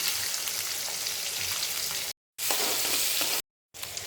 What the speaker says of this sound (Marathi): आता तेल गरम झालेलं आहे त्यामध्ये मी जिरं टाकू आता त्यामध्ये हिंग टाकते कांदा घालते